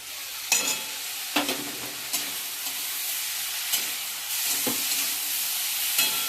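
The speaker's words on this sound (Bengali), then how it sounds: "একটু আমি ভালো করে নাড়াচাড়া করে নেব" Coconut, ginger and cumin stirred and fried in a pan, a steady close sizzle broken by several sharp scrapes of the spoon against the pan, with no voices.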